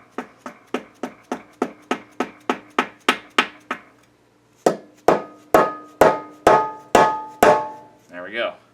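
Light hammer whacks on a putty knife wedged under a Subaru Legacy oil pan to break the seal: a quick run of about a dozen metallic taps, a pause, then six heavier ringing blows, close and loud.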